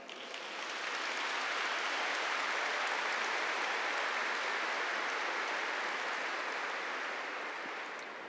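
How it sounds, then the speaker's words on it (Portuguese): A church congregation bursts into applause after a Gospel reading, swelling quickly into a dense, sustained roar of clapping that holds steady before easing slightly at the end. "e aplauda essa palavra."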